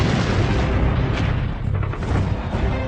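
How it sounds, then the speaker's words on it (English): Heavy bomb explosions from the Allied bombing of Operation Cobra in 1944 form a loud, continuous roar of blasts and deep rumbling that fills the whole stretch without a break. "Operation Cobra, the Allies' heavy bombing campaign to break out from the beaches, unleashes 9 million pounds of bombs."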